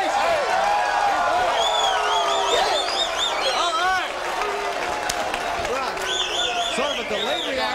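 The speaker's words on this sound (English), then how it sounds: "Sort of a delayed reaction from the crowd there" Boxing-match crowd reacting after a knockout, a steady loud roar of cheers and chatter throughout with a brief dip midway, while a commentator's voice talks over it.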